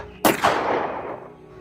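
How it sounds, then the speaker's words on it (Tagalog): Gunshot effect in a Filipino aswang horror story: a sudden loud blast, quickly followed by a second report, both trailing off in a long reverberant decay with no voices. "sigaw ni Jeric sabay putok ng baril"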